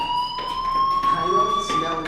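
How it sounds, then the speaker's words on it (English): Fire alarm in the video game Life is Strange, a steady high electronic tone held throughout with its overtones, sounding from a distance under faint background noise and pulses of muffled speech. "Hey, do you hear that fire alarm?"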